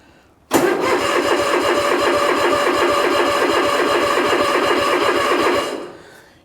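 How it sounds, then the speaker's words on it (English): A Toro TimeCutter riding mower engine is cranked from cold at about 20°F. The starter kicks in abruptly and churns in a fast, loud, steady rhythm for about five seconds, then winds down without the engine catching. "So let it run and then let it try to start and then let it sit for a second and let it try to start again like this."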